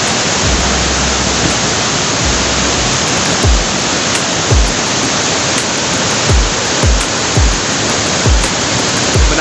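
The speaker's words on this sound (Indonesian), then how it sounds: "Seperti inilah kondisi dari air terjun guys," A forest waterfall gives off a loud, continuous broadband roar of falling water that stays steady and close the whole time.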